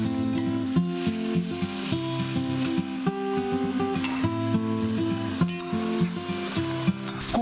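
White wine splashes into a hot pan of crushed vegetables and tomato purée, setting off a steady sizzle with scraping stirs, under melodic background music.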